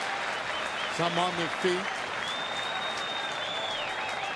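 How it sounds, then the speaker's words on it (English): Baseball crowd applauding in a stadium during a Miami at Philadelphia game, a steady broad wash of clapping with a commentator talking briefly over it. "Some just applauding."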